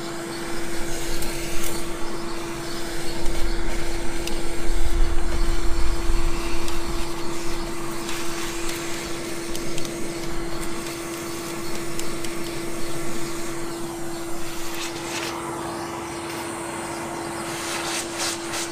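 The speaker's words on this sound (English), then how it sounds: "With a vacuum cleaner, I'm cleaning the evaporator cover" A vacuum cleaner drones loudly and continuously with a steady tonal whine, its pitch and intensity shifting slightly as it cleans a ventilation system's evaporator cover.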